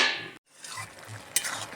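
A spoon stirs a pot of ghugni, a thick chickpea curry, giving soft scraping and a faint sizzle in a couple of short close strokes after a brief pause.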